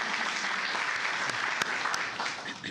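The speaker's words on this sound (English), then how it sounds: "She stood up and we clapped for her 3 times." An audience at a county commissioners court session claps steadily for an honoree, a dense, close round of applause lasting a few seconds.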